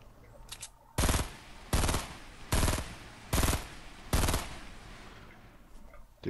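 Five loud, close bursts of rapid automatic gunfire from a Fortnite Battle Royale match, evenly spaced with short gaps of quieter game sound between them.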